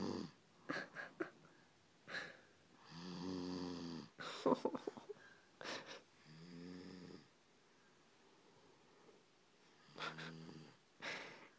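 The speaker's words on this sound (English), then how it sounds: "He just passed right out and snoring." A tired young boy, passed out after his first day of kindergarten, snores loudly in his sleep. Several long, rough snores come up close in a slow, irregular rhythm, with snorting breaths and quiet gaps between them.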